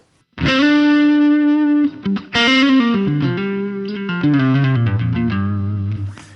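An electric guitar through an overdrive pedal, a Boss SD-1 or Ibanez Tube Screamer style drive into a Jazz Chorus amp model in a Helix, plays a sustained note then a short descending riff, gritty and loud, with no talking.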